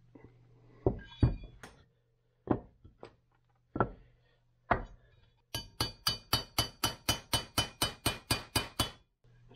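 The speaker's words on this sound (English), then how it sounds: "I'm going to have to probably tap that one out" Metallic hammer strikes tapping out a stuck valve in a 2011 Kawasaki KX250F engine head: a few scattered heavy taps, then a fast steady run of about fifteen sharp, ringing blows, close and loud.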